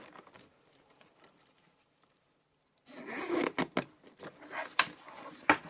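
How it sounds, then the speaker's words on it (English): A zipper closes a small bag with several quick rasping pulls, close up, after a quiet stretch with faint handling noise. "go ahead and zip it up"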